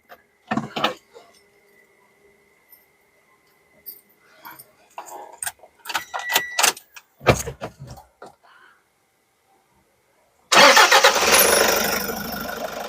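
Clicks and short mechanical noises, then a 2017 Toyota HiAce Commuter van's 3.0-litre engine cranks and catches, settling into a loud, steady, rough-sounding idle that runs to the end.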